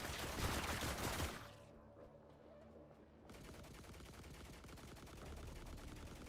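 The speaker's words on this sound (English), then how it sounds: "Stop shooting me" Bursts of rapid gunfire aimed at the player in the survival video game The Last Caretaker, a dense crackling volley, a short lull, then sustained faint shooting continuing to the end.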